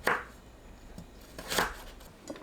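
A kitchen knife slices sweet potato into half-centimetre-thick pieces on a cutting board, three crisp, close cuts spaced apart, each a sharp chop with a short scrape.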